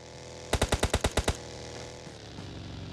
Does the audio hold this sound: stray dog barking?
no